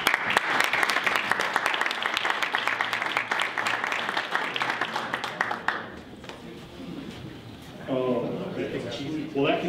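Dense audience applause at an awards banquet, loud and continuous for several seconds before thinning out, followed by a voice speaking over the fading room.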